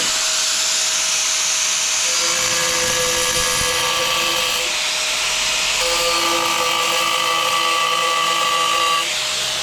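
A 4-inch angle grinder cuts a round hole in porcelain tile, giving a loud, continuous high-pitched whine and grinding hiss that dips slightly in the middle as the cut continues.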